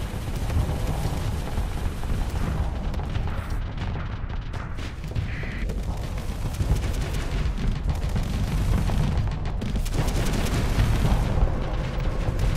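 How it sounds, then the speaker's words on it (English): Heavy, continuous booming weapons fire from railguns on a ship in the space combat game Starsector, a dense rumbling barrage with repeated impacts throughout. "look at those railguns fire"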